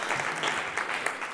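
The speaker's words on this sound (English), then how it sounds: "Let's give her a huge round of applause." Audience applause for a speaker at a speaker showcase event, a short steady wash of hand claps from a crowd, moderately loud and close, with a slight swell near the end.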